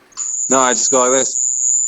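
A continuous high cricket chirp rings outside at night, loud and unbroken, while someone speaks briefly over it.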